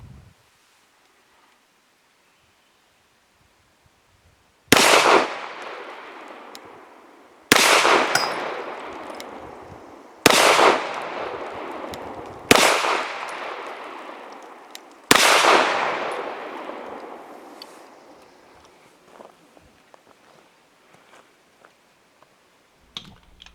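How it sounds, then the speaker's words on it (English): Five loud, sharp 9mm shots from a Colt Competition 1911 pistol firing Nosler 124 grain hollow point match rounds at 7 yards, spaced a few seconds apart, each with a long ringing decay outdoors. "Now for 5 shots from 7 yards using Nosler 124 grain hollow point match."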